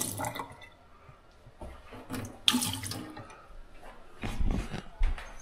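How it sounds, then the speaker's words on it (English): Tap water runs and splashes into a shaker bottle in uneven bursts, close by and fairly quiet, with a few clunks of handling between the pours. "Fill your shaker up with 12 ounces of water."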